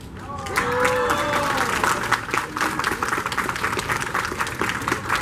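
An audience applauds at a cosplay contest, a sustained wash of many hands clapping that fills the whole stretch at a fairly even level, with some faint tones underneath.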